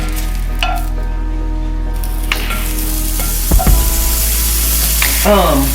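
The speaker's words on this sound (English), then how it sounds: "I just wanted to show y'all how to fix some summer sausage in the skillet" Summer sausage sizzles and crackles in a hot skillet, a steady frying hiss with occasional scrapes and clinks of a utensil against the pan.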